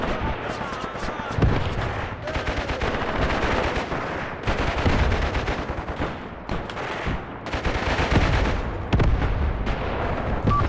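Artillery and small-arms fire rumble through a World War II battle in the Graviteam Tactics: Pivot Point strategy game: dense, continuous volleys of booms and cracks with heavy low-end thuds, loud and sustained throughout.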